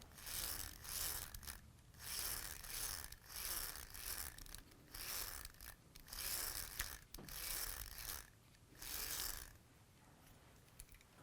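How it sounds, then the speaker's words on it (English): A small electric motor in a 1985 LJN Entertech Centerfire toy gun is spun by hand, giving repeated bursts of rattling, ratcheting whir that rise and fall roughly every second, close up with no talking. "we've hand spun this motor."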